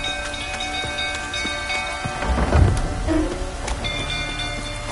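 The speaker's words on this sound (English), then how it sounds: "Looks like rain." Steady rainfall in The Witcher 3, a constant patter with a low, rumbling swell rising midway, likely thunder, then easing back into the rain.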